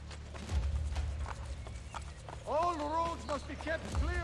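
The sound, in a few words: horse in Assassin's Creed: Brotherhood video game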